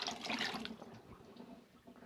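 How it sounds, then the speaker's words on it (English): Excess water spews from a woodworking steam box into a bucket while bending planks for an International 2.4mR sailboat, a faint, steady splashing trickle that carries on throughout with no voices. "So I've got my steam box just kind of spewing all of its extra water out into this bucket."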